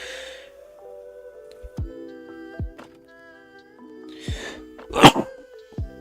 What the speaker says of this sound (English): I should have muted before I sneezed.